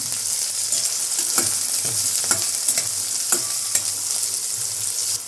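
Chopped onion and curry leaves fry in hot oil in a pan for matar upma, a dense steady sizzle close up, broken by repeated scraping taps as the mixture is stirred.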